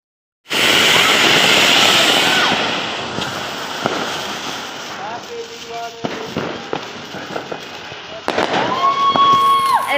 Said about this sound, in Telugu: చిన్నపిల్లల కన్నా మా విజయామ్మకి ఇంకా బాంబులు కాల్చడం అంటే చాలా సరదా